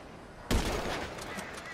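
Gunfire in GTA 5 Online: a single sharp shot bursts out abruptly, followed by a rattling, decaying tail and faint further impacts, close and loud over quiet game background.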